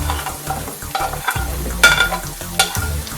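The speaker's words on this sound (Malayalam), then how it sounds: "ഇനി ഇതിലേക്ക് സവോളയൊക്കെ വഴറ്റാം" Sliced onions sautéing in a pan after garlic, ginger and green chillies for Kerala-style chilli beef, with a close sizzle broken by repeated scraping stirs and spoon clatters at an uneven rhythm, with no talking.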